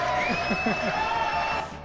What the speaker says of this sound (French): Applaudissements pour Rémi Bois-Bessot.